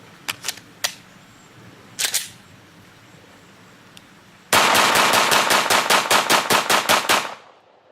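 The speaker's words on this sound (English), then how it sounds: "RIP ammo is awesome for, blowing up a pile of meat and bone" Gunfire from RIP ammunition fired into a pile of meat and bone: a few scattered single sharp shots first, then a rapid rapid-fire string of about fifteen loud, close reports that stops abruptly.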